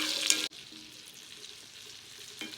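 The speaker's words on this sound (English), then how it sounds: "And all we're gonna do with this is keep spooning the butter on it" Beef tenderloin fries in a pan while butter is spooned over it: a sharp splattering burst opens, then a softer continuous sizzle follows, with another brief spatter at the end.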